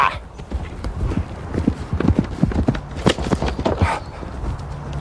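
Horse hooves gallop in a rapid, irregular clatter during a medieval lance charge with the spear tucked under the arm, close and fairly loud, with a few brief shouts and breathy noises mixed in.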